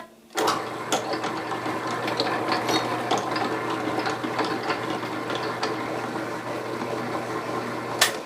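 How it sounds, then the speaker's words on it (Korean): A stand mixer at its lowest speed kneads French bread dough, giving a steady, close motor whir with a low hum and irregular mechanical clicks and knocks throughout, with no talking. "이렇게 넣고 반죽을 치도록 하겠습니다."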